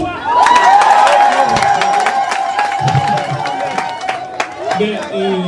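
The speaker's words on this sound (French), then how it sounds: "Alors on applaudit pour moi." A lively crowd at a family baptism celebration claps and cheers loudly, with shouts, whistles and a sustained tonal cry riding over continuous dense applause throughout.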